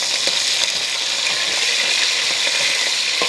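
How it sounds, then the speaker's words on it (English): Fish sizzling loudly in hot shea butter for a Ghanaian street dish, a close, constant hiss and crackle with occasional small pops and light stirring knocks, and no talking. "Fish is frying gorgeously"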